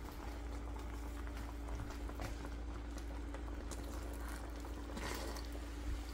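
Pumpkin simmering in piloncillo syrup boils steadily in a pot, a continuous dense bubbling and popping with no talk, close and even throughout.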